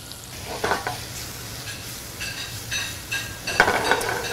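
Catfish and yellow onions frying together in a pan, a moderate sizzle with intermittent bursts of stirring and scraping, no voices.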